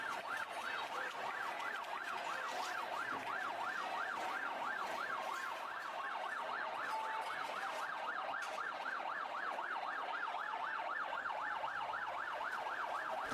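A fire engine siren wails in a fast, steady up-and-down rise and fall as it passes protest barricades in Hong Kong. The siren stays loud and continuous over faint traffic noise throughout.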